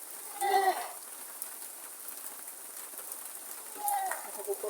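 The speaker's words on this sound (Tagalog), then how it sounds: "Ayan guys, ilang araw na umuulan." Steady rain hiss fills the clip, with a couple of goat bleats rising near the start and again near the end.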